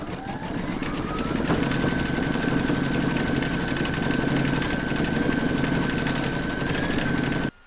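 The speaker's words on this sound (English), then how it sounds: "you're going to stitch round number five, and that's going to do the decorative stitching around the border" A machine-embroidery run stitches a decorative border around an in-the-hoop photo frame, giving a steady, loud, rapid mechanical whir and needle chatter that continues unbroken, then stops abruptly at the end.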